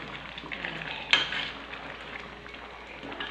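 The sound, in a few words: pork hock (pata) with mung beans cooking in a pot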